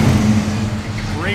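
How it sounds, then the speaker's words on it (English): A 1971 Chevrolet Cheyenne truck's engine idles low and steady, with a brief rev rising near the end, heard close up and continuous under people talking. "Give it a little rev."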